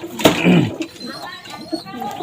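Pigeons coo close by, one low rounded coo rising clearly near the start, followed by fainter soft calls, while someone talks over them.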